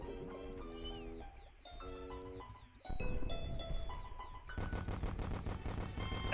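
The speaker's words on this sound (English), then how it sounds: "I completely forgot about the fireworks!" Fireworks in the Pikmin video game: rapid popping bursts and crackling salvos with bright tinkling tones over game music, growing denser and louder in the second half.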